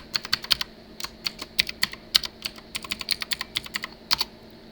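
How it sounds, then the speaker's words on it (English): Quick, irregular clicks of fingers typing on a computer keyboard, close and crisp, in short bursts with tiny pauses over a quiet room and no talking. "I'm going to type it in now."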